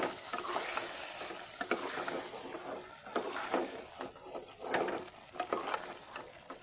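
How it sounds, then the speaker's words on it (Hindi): A tomato and onion paste fries in a pan, a continuous hiss and sizzle with repeated scraping strokes of a stirring spoon at an uneven pace. "मैंने पेस्ट बना लिया है टमाटर और प्याज का, वो डालती हूँ।"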